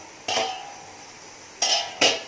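A pressure cooker of cooked rice is opened and checked in a home kitchen, giving a few light metallic clinks and knocks of the lid and pot, fairly quiet, with no talk.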